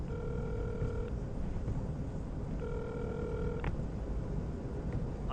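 A telephone rings twice in separated electronic bursts, each about a second long, over a quiet background.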